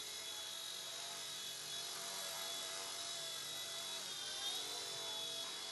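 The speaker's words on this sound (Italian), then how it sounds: "Cerco di spostarlo un po' vicino alla telecamera, così lo vedete più da vicino." A small drone hovers and flies close by, giving off a steady, high propeller whine that holds an even level throughout with only slight shifts in pitch, and no voices can be heard.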